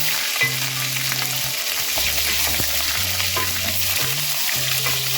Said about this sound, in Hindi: तकरीबन इसे मैं 2-3 मिनट तक फ्राई करूंगी